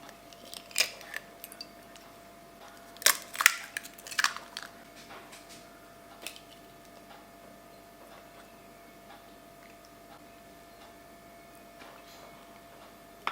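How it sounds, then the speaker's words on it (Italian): Two medium eggs and a yolk cracked into a bowl in a home kitchen, heard as a few sharp taps and small cracks with short pauses between, close and fairly quiet with no talk. "rompo nella ciotola 2 uova medie e un tuorlo"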